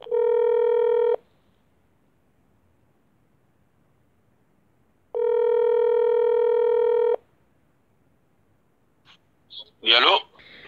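Telephone tones for an outgoing call: two long, loud electronic beeps separated by a pause, then a voice briefly answers near the end.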